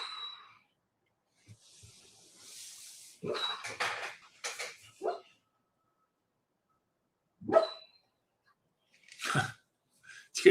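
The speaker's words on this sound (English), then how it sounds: "That's the dog sleeping." A sleeping dog makes sporadic noises: soft whimpers, huffing breaths and muffled yips in brief, irregular bursts separated by long silent gaps, fairly close by.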